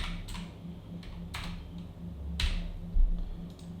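Keys tapped on a computer keyboard in a quiet room, a few sparse separate clicks with a low steady hum underneath, fairly close and soft.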